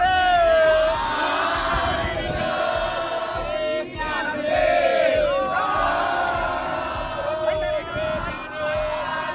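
A dense crowd of pilgrims on the Pandharpur wari fills the air with loud chanting and shouting voices, layered cries rising and falling over continuous murmuring throughout.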